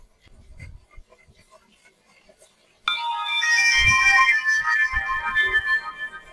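A Marlex MX-25 button feature phone plays its ringtone, a loud, bright electronic melody that cuts in suddenly after a few seconds of quiet handling noise and continues to the end.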